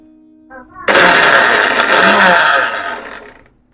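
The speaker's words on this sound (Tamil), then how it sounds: "இப்போ பல்ஸ் மோடு விட்டு இதை அரைச்சிக்கலாம்." A mixer grinder whirs in a short pulse over garlic with skins and spices for rasam, starting abruptly after a few faint clicks, loud and close for about two seconds, then winding down to silence.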